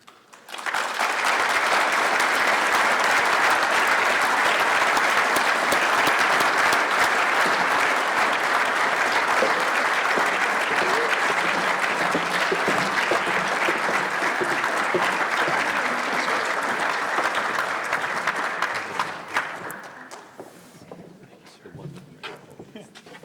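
Gala crowd at a scouting council centennial event applauds a family, a loud, sustained wall of clapping from a large room that holds steady for nearly twenty seconds, then fades into scattered claps and room noise.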